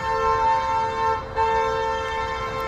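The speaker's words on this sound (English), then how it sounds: "I don't know why they're honking now." Traffic horns sound on a street in Los Angeles as a steady, sustained honk that holds at moderate loudness, with a brief dip partway through over street background noise.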